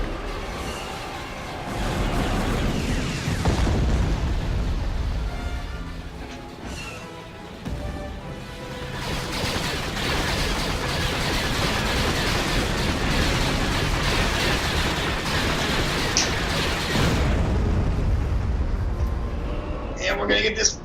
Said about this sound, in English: Gonna bombing run this tank, this factory right here. Commencing bombing run.